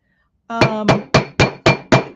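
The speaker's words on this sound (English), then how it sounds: "But I can hammer this until it gets round." A hammer strikes a sterling silver ring on a tapered steel ring mandrel, six loud ringing metallic blows in a steady rhythm, each decaying briefly, close and alone.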